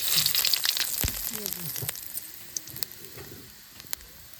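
Fenugreek seeds tempering in hot oil for a village-style leafy green dish, a bright sizzle that flares at first and gradually settles into sparse crackles and pops.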